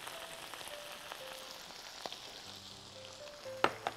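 Red, green and yellow bell peppers sizzle as they go into a hot pan, a steady crackling fry with a few sharp pops and utensil clicks near the end, close and moderately quiet.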